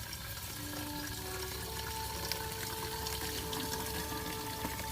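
Water running steadily into the radiator of a Toyota Supra MA70 while the coolant system is being refilled after a radiator replacement, a continuous close trickling pour with no talk.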